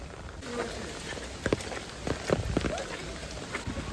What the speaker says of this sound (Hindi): बारिश काफ़ी ज़्यादा तेज़ हो रही थी